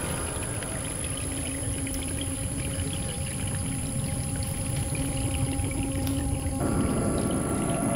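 Toxic formation water pouring from a gooseneck pipe into a marsh, a steady loud gushing rush with an even, unbroken flow and a constant hum, no voices.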